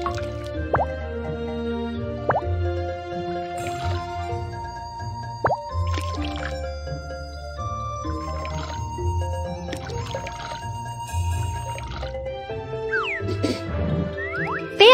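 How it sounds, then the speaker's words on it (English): Bubbling water in a video game tea-making scene, steady drips and plops, liquid popping in an irregular rhythm over a faint electronic background tone. "The water is boiling."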